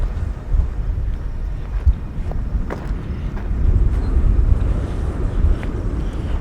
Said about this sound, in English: Pretty windy out here today.